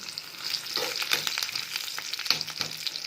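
Mustard seeds fry in hot oil as a tempering for sour gooseberry dal, a steady close sizzle with scattered crackles and pops running throughout.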